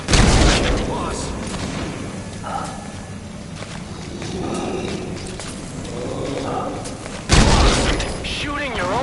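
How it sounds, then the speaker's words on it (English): Gunfire rings out in Metal Gear Solid V: The Phantom Pain, sharp loud bursts at the start and again near the end. Between them comes a rumbling, mechanical battle din, with game voices shouting over it. "Shooting your own men!"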